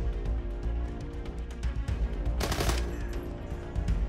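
Automatic gunfire from an RPK light machine gun in the shooter Arena Breakout, rapid repeated shots over a dense game soundscape, with a louder, brighter burst near the middle.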